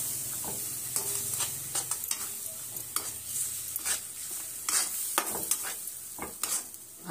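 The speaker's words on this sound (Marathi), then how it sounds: "आणि 5 मिनिटं असं तेल सुटूपर्यंत ह्याला शिजून घ्यायचं आहे." Tomato puree cooking down in hot oil for a bottle gourd kofta curry, with a steady close sizzle and repeated spoon scrapes and stirring knocks against the pan throughout, no voices.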